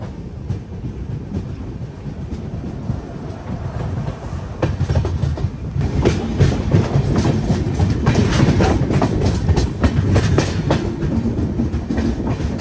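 The Ajmer–Durg Weekly Express pulls away from Pendra Road station and runs on the rails in India, its rhythmic clickety-clack and rumble heard from inside the coach and growing louder as it gathers speed.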